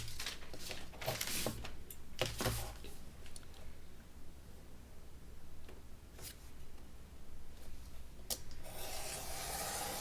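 Craft knife slicing strips of recycled paper for a basket, a few quick close scraping cuts with rasping strokes at the start, then quieter rustling and scattered clicks of handling.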